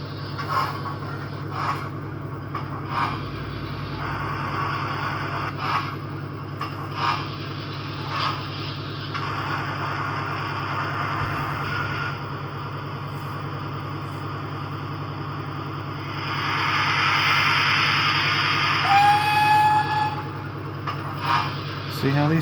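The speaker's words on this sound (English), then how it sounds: "Bring our little steam train in." A small model steam train with LMS coaches runs on a model railway layout, a steady rolling rumble and hum that swells louder near the end, with faint background talk.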